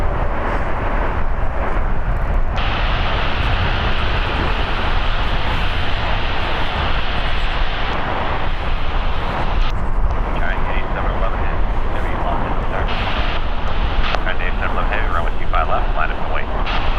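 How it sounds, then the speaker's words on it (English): A 24-year-old United Airlines Airbus A319 departs LAX for Seattle with a steady jet rumble, while a person talks over it for most of the time. "Departing is United Airlines Flight 1054, going to Seattle. It's an Airbus A319"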